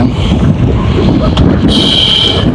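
Strong, loud wind buffets the microphone at the shore of the Velanai Thuraiyur fishing village, a continuous roaring gust with a brighter hiss rising near the end.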